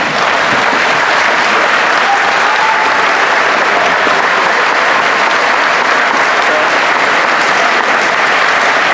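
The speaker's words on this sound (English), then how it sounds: "Stand and applaud, please." A standing audience applauds at a 2018 high school graduation ceremony in Harriman. The clapping is dense and loud and holds steady for the whole stretch.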